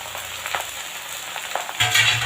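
Bottle gourd greens and stems fry with chickpeas in a pan under a continuous close sizzle, while a spatula scrapes and stirs with irregular knocks that grow louder near the end; no one speaks.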